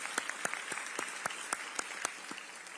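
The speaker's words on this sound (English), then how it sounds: "give them a round of applause" Scattered applause at a high school graduation ceremony for a student's parents: a thin patter of individual claps, fairly faint and irregular, over a steady room hum.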